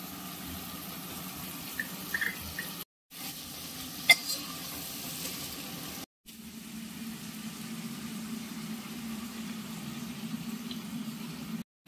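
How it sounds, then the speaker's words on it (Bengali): Fried spices with turmeric and salt sizzle in a pan for a light Bengali katla fish curry as water goes in. A steady crackling hiss runs throughout, broken by two brief silent gaps, with faint clinks and no speech. "এরপর জল দিয়ে দিচ্ছি গ্রেভির জন্য"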